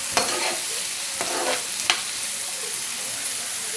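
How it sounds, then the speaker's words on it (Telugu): Chopped onions and green chillies sizzle in hot oil in a pan for an egg curry, a steady bright hiss with a few scraping stirs of a spatula, close and unaccompanied by talk. "ఉల్లిపాయలు, పచ్చిమిరపకాయ ముక్కలు వేసుకున్నాను. ఉల్లిపాయలు దోరగా వేయించుకుందాం."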